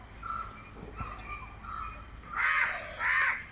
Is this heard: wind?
no